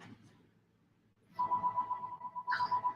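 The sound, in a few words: phone ringing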